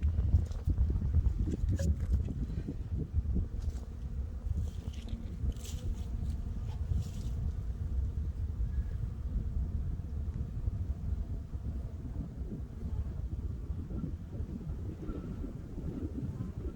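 Low, steady wind rumble blowing across the microphone at moderate level beside beehives, with faint rustling and no clear speech.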